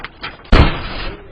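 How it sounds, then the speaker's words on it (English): A fist bangs hard on a neighbor's door: a few lighter knocks first, then one loud slam-like thud up close that rings briefly and fades, with a voice faintly present. "she started banging on the neighbor's door, demanding her property back"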